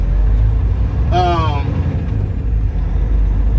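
Kenworth tanker truck pulling out of a truck stop onto a four-lane state route: a steady, loud low engine drone heard from inside the cab, with a brief whining tone partway through.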